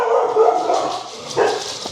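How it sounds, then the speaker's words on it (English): A dog barks close and loud, a short yappy bark followed by whimpering, whiny yips, heard on its own. "Your dog's annoying habit of barking at trash."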